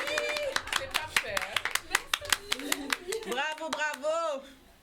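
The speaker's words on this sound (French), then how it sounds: "On applaudit." A small audience at a Guadeloupe pageant event claps in quick, sharp, uneven bursts close by, with a voice speaking over the applause as it fades out.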